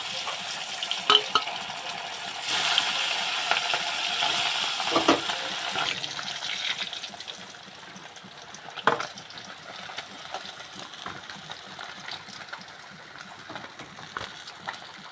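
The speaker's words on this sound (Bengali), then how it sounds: "এবারে যে বাকি কটা মাছ ছিল ভেজে নেব।" Fish fry in hot oil in a pan, a continuous close sizzle with occasional stirring and utensil clinks.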